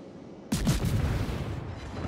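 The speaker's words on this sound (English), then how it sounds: "go ahead and just get the guns going" Warship guns fire in a naval video game, with a battleship as the target: a single sudden booming shot followed by a rumbling decay, heard alone without talk.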